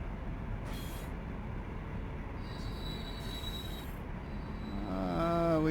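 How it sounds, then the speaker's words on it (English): A simulated Amtrak train in the Run 8 train simulator game rolls through Cajon Pass with a steady low rumble, high metallic wheel squeals, and a louder, swelling tonal horn-like whine building at the end. "We got a train, I think that's the Amtrak coming up over here on the left"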